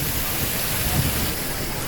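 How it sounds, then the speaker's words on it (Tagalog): Heavy July rain pours down in a steady, dense wash of noise that holds at an even level throughout, with no voices over it. "Pero ito na yung pinakamalakas na ulan sa amin ngayong July na to."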